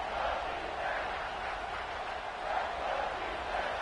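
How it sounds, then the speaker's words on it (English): Stadium crowd in a college football video game, SMU matchup: a steady, dense roar of many voices that swells slightly and holds without a break from start to finish. "This crowd knows when to bring it."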